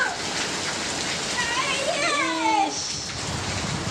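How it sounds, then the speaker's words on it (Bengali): Heavy pre-monsoon storm rain pours steadily close by, a dense continuous roar, with a voice calling and chattering over it. "কি জোরে বৃষ্টি আইতাছে।"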